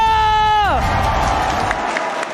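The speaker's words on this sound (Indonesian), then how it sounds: "MPL Arena minta tepuk tangannya" A live esports arena crowd at an MPL Indonesia Mobile Legends match breaks into applause and cheering, loud and dense, right after a descending musical sting.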